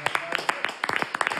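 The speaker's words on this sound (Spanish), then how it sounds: "nos démonos un aplauso" A small roundtable group applauding to close their discussion, a short burst of scattered close claps from several hands, with voices talking over it.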